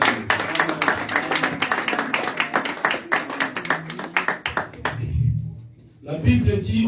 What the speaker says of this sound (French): sous les acclamations